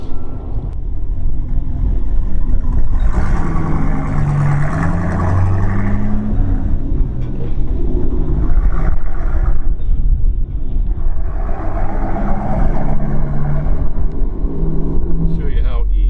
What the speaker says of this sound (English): I'm one-handed steering this truck.